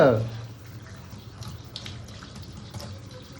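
A tap runs while a child washes their face, a steady soft splash of water close by, with a short adult voice at the start.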